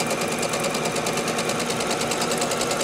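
A sewing machine hums loudly and continuously up close as it chain-pieces quilt half-square triangles, its rapid needle chatter forming an even, unbroken mechanical whir.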